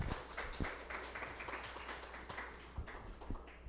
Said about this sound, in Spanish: también un aplauso a Irma